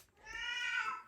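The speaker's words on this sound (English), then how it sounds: "my cat is going to be noisy now" A domestic cat gives a single drawn-out meow lasting about a second, close to the microphone in a quiet indoor room.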